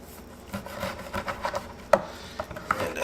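Knife working between pork rib bones while trimming ribs for grilling, giving soft rubbing, scraping cuts with a few sharper clicks as the blade meets bone, close and fairly quiet with no talk.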